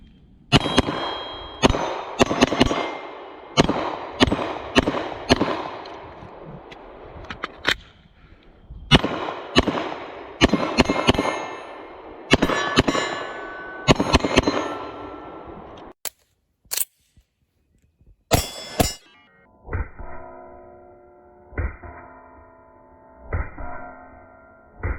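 A Glock 17L longslide pistol fires in a string of sharp, evenly spaced shots, then pauses before a few isolated reports, followed by a series of clicking, ringing metallic sounds.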